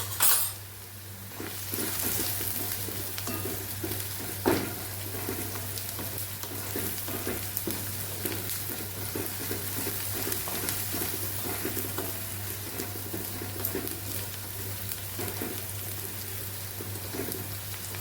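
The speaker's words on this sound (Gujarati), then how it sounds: "અહીંયા આપણી ડુંગળી સતળાઈ ગઈ છે" Onion sautés in oil in a pan while being stirred for a Gujarati tuver totha curry. A steady sizzle runs throughout, with repeated scraping stirs and occasional utensil knocks over a low, constant hum.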